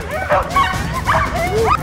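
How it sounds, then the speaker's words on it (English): A group of sled dogs being harnessed yelps, whines and barks excitedly, overlapping high cries close by with a steady background din. "one thing they don't tell you about these dogs is they make a lot of noise"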